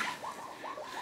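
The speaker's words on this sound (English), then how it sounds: "you can hear monkeys in the background." Monkeys call in the jungle of Tayrona National Park, a faint, distant series of repeated rising whoops or chirps about every quarter second, over a hissy forest background with no talk.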